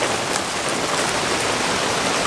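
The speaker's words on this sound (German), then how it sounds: "Der Regen wird gerade immer stärker." Steady rain patters outdoors on a camping site around an Optimus Polaris multi-fuel camping stove, a dense, even hiss of drops on surfaces at constant loudness with no voices.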